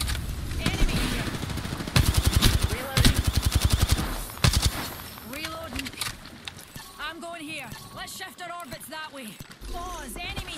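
Rapid automatic gunfire bursts from an Apex Legends firefight, loud and close with a long sustained volley early on, while game voice lines and player chatter continue over the later shots.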